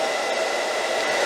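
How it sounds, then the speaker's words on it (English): A toaster oven running on an off-grid solar battery and inverter setup gives a steady, loud, even broadband whir with no breaks across a short stretch. "Toaster oven's running."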